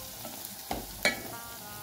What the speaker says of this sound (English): let's fry the onions